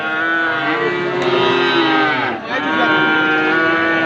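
A Friesian bull calf at a busy Raniganj cattle market gives a long, loud, close moo lasting most of the moment, with a brief dip before the call resumes, over general market din.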